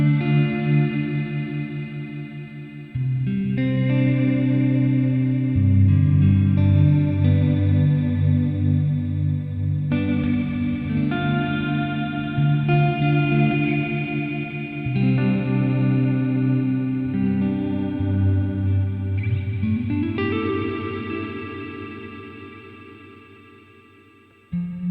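Electric guitar chords played through a reverb patch on a Hotone Ampero Mini multi-effects unit ring out in lush, sustained washes, each strum blooming and trailing off into a long shimmering tail, with no voices.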